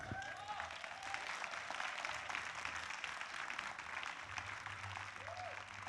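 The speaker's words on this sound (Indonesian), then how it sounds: "beri tepuk tangan yang meriah untuk Bonar." Audience at a stand-up comedy competition show applauding warmly for a comedian, sustained dense clapping from a crowd, fairly distant, with a brief tone under it.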